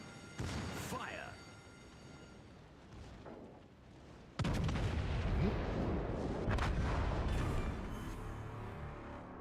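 Artillery fires in a video game, with booming shots and a heavy rumbling barrage that swells halfway through and stays loud, as a voice speaks briefly early on.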